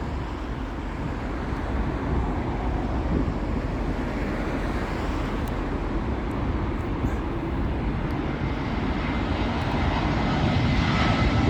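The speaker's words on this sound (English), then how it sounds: "British Airways A319. This is coming in from Brussels." A British Airways Airbus A319 airliner arriving at Heathrow Airport, a loud, sustained jet engine roar with wind noise that holds steady throughout.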